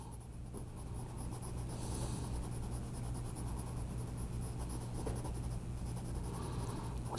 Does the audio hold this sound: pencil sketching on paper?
yes